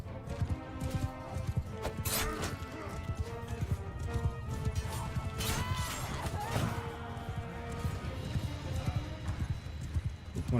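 Horse hooves clatter and gallop through a medieval battle in the game Mount and Blade 2: Bannerlord, a busy, continuous clip-clop amid combat noise and music, with a voice talking over it.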